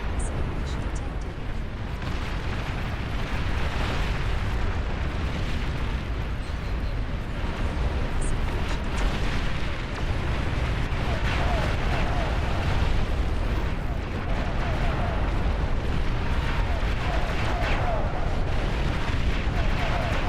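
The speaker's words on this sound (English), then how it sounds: "Nuclear missile launch detected." Dense, continuous rumbling booms and blasts from a nuclear missile launch and strikes in the strategy game Beyond All Reason, loud and sustained throughout with voices talking over the din.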